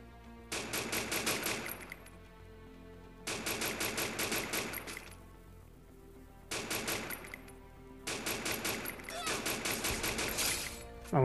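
Bursts of automatic gunfire in Free Fire, four loud rapid volleys of about a second or more each, separated by brief pauses, with no talk over them.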